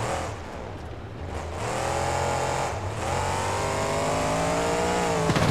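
A monster truck engine in BeamNG revs hard and steadily, a loud continuous roar with rising and shifting pitch that holds throughout without any talking.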